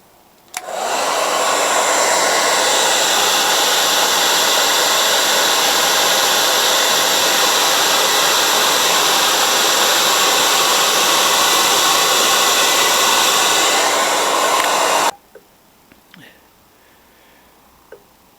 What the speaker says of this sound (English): When you're heating the chain with a hairdryer, just use an old rag just to wipe off the excess wax as it heats.